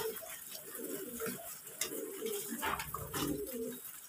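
Farm pigeons coo softly and repeatedly at a Bangladesh homestead where they are kept with hens, with steady low murmuring calls overlapping at close range and no talking.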